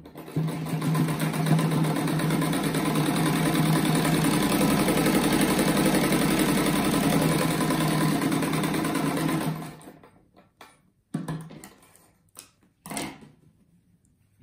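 Electric sewing machine running steadily for about nine seconds, stitching two fabric pieces together for a patchwork star rug, loud and close with a continuous motor whir, then stopping and leaving brief handling noises and near-silence.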